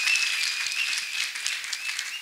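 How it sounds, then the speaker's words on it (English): A church congregation claps together in a dense, continuous burst of applause, close and steady for a couple of seconds. "Let us clap for Master Jesus, people of God."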